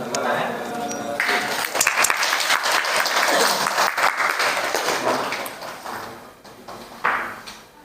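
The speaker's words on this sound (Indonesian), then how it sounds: "Tepuk tangan." Steady, dense applause from a classroom audience after a student group's presentation. Many hands clap loudly and keep going for several seconds, then thin out and die away near the end.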